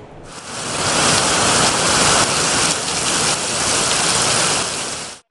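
Steady rain pours over city streets during a monsoon downpour, a dense continuous hiss of drops on wet pavement, loud and close, running without pause and with no voices.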